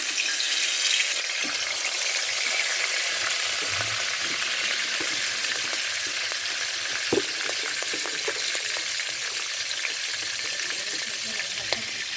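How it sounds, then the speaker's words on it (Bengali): Onion and garlic paste frying in oil for a soybean and pointed gourd dish, giving a steady, close hiss of sizzling with a few soft clicks from utensils, no voices. "এর আমি পেঁয়াজ আর রসুন বাটাটা দিয়ে দেব।"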